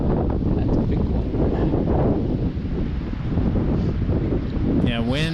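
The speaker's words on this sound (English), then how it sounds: "wind's picking up big time" Strong outdoor wind buffeting the microphone at a fishing spot by rocks and water, a constant rumbling gusty roar, with a brief whistly tonal sound near the end.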